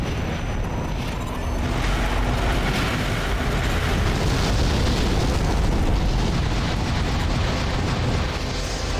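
Heavy gunfire and explosions from the mech combat game Armored Core 4 Answer during a tower defense mission pour out as a dense, loud, unbroken rumble of blasts.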